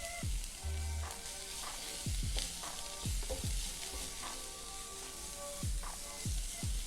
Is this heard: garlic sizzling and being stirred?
yes